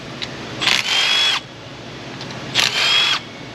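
A power tool backing 8mm bolts out of a Chrysler 2.4 engine during a 2010 PT Cruiser teardown, heard as two short whirring bursts close by over a quiet background.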